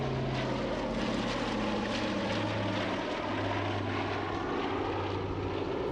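Steady, loud drone of a Lockheed C-121A Constellation's propeller engines running continuously, with a throbbing low hum and a wash of rushing noise.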